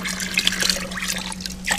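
Seawater pours and splashes into a container holding a live fish, a short, close, continuous liquid gurgle with no voices.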